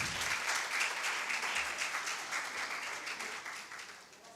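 Audience at a book launch for author Ishrat Jahan Rizvi applauds, a steady wash of many hands clapping, moderately distant and fairly soft, easing slightly as it goes on.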